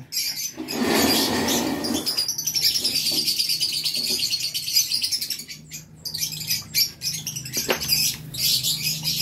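Pigeons chirp and squawk close by during feeding, with flutters and scattered calls over a steady background of cooing and rustling.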